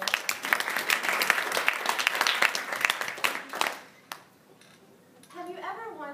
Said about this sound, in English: let's clap her in